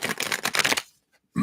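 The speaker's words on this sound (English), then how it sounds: "let's give them a shuffle and we'll get into it" A deck of tarot reading cards being shuffled in rapid riffling bursts for most of a second, then a quiet gap before another soft thump at the end.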